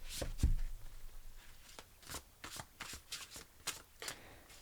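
A large oracle card deck being shuffled by hand, with a soft thump at the start followed by a series of quick riffling bursts, close and quiet.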